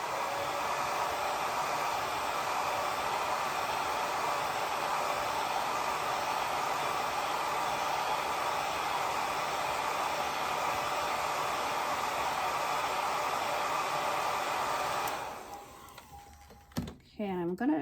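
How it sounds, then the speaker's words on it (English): Hair dryer drying watercolor paint between glazes, a steady close airy whoosh for about fifteen seconds that cuts off, followed by quiet handling noises. "I'm going to dry this between my glazes."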